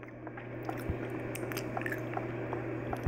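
Soft wet chewing-gum squishes and smacks close to the mic, with small clicks over a steady hum from a Minecraft session.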